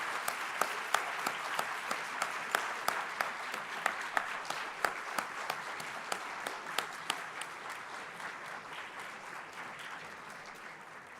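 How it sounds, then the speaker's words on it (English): An audience at a vaccine manufacturers' annual general meeting applauds steadily for an honoured founder member, a sustained, fairly distant patter of many hands clapping that carries on for over ten seconds with sharp individual claps standing out. "I would request all of you to pay a big applause for Dr. Akira Homa, the founder member of DCVMN"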